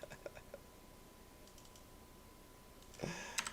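Razer computer keyboard keys clicking, a few faint quick taps at the start, a soft cluster midway, then a louder burst of rapid clicks near the end over a quiet room hum.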